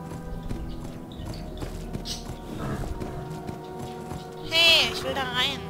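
Horse hooves clip-clopping in the riding video game Abenteuer auf dem Reiterhof 5, a steady walking rhythm with game sounds and a short tonal call near the end.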